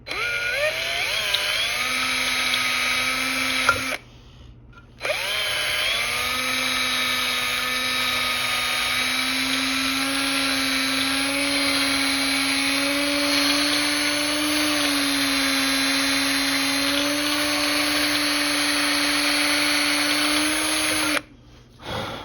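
A handheld power tool whines steadily as it drills out and widens a hole in the side of a snow globe tumbler, the motor's pitch creeping upward, with two brief pauses where it stops and restarts.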